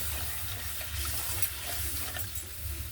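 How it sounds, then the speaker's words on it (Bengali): Water pours steadily into a pot of flat beans being readied for boiling. It makes a continuous, even splashing rush that sits close and fairly soft, with no voices. "একটু জল ঢেলে দেবো"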